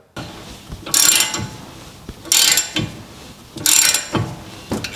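A cordless electric ratchet spins loosened bolts off a Nissan Pathfinder during front wheel bearing replacement: three loud, close whirring bursts, each about a second long, separated by brief quieter gaps.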